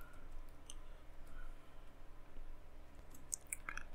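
Light, irregular clicks of typing on a computer keyboard, faint and close over low room hum, with a few sharper taps near the end; no talking.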